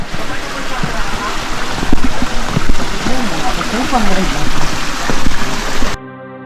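A small stream on a forest trek to Vasota fort, water steadily rushing and gurgling nearby with voices audible over it, then cutting off near the end.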